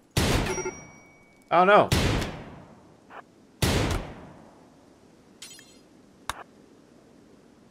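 Gunfire in the colony-sim game RimWorld: a few loud, separate bursts of shots with pauses between them and fainter pops later, while a voice talks between the shots.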